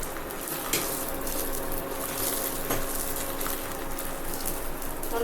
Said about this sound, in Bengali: শুধু ঘিতেই এটা ভাজতে হবে। ঘিটা গরম হয়ে গেছে